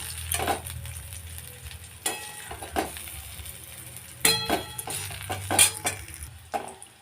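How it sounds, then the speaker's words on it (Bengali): Fried bitter gourd pieces are scooped from a pan and added to moong lentil dal, with scattered metal spoon scrapes and clinks against cookware over a faint background sizzle. "এবার সবগুলো করলা তুলে আমি এরকম ডালে দিয়ে দেবো"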